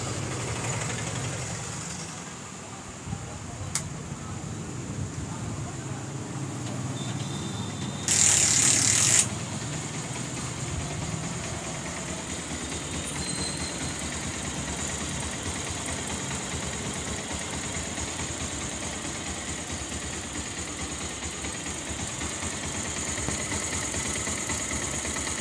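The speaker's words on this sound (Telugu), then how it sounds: "నా బండికి సైలెన్సర్ ఓపెన్ చేస్తే బీట్ అనేది ఎలా ఉంటుంది విందామని" A motorcycle engine with an open silencer idles steadily for a long stretch, a continuous rough low beat with a brief sharp burst partway through and no talking.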